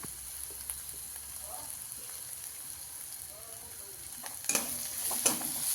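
Masala with coconut fries in oil for a home-style egg curry, with a soft, low sizzle and light stirring scrapes that grow a little louder near the end.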